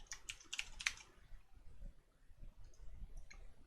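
Quiet, close clicks from a computer keyboard come in a brief cluster as text is typed into a web page layout, then fade into a few faint taps over low room noise.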